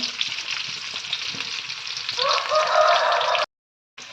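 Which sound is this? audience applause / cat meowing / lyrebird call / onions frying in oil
onions frying in oil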